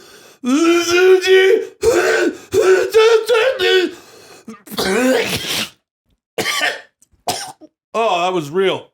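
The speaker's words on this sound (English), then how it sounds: "I did performative coughing." A person coughs repeatedly in harsh, rasping bursts close to the microphone, with throat clearing and brief gasps between fits.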